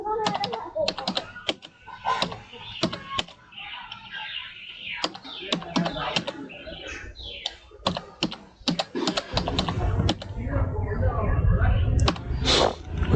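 Rapid bursts of keystrokes on a computer keyboard while filling in an online application form, clattering in uneven runs with pauses, close and fairly loud, with a low background hum building toward the end.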